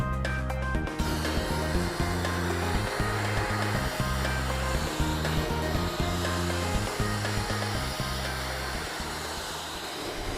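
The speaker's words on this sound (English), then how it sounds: "methodical blasting and overlapping vertical strokes allows the blaster to clear the substrate, resulting in white metal status" Abrasive blasting of steel down to white metal (SSPC SP5), with methodical overlapping vertical strokes: a steady, loud roaring hiss that runs the whole time beneath rhythmic background music.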